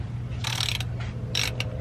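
A ratchet tightens a 12 mm bolt on an Acura Integra shifter fitted with Hybrid Racing detent springs: two short bursts of bright ratcheting clicks, close up over a steady low hum.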